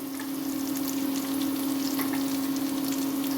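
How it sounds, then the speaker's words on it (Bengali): Ginger garlic paste fries with browned onions in a pan, giving a continuous close sizzle with light stirring scrapes under a steady hum, and no voices. "পেঁয়াজ লাল লাল হয়ে এসেছে, এবার আদা রসুনের পেস্ট দিয়ে দিচ্ছি"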